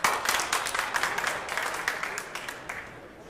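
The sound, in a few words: audience applause at a pool tournament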